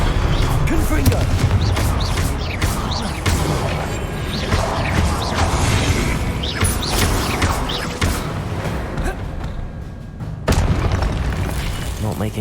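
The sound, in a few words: Confringo blasting spell from Hogwarts Legacy video game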